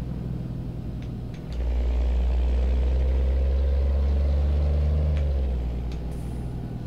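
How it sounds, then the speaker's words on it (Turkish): A Renault Magnum truck engine in Euro Truck Simulator 2 rumbles with a deep, steady low drone. It swells louder after a quieter start, holds for several seconds, then eases off slightly toward the end, with no talking. "Dediğim gibi kendine has bir motor sesi var."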